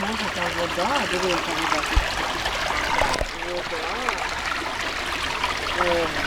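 Steady rushing and trickling of a stream runs throughout, with people talking over it now and then.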